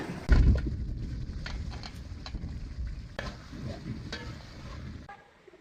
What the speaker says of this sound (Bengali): এখন ভাজা মুরগিগুলো দিয়ে লমু।